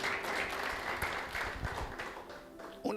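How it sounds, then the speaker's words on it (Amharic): A church congregation claps for God at a sermon, a brief burst of scattered applause that rises, then thins and fades toward the end. "እስቲ ለእግዚአብሔር አጨብጭቡ"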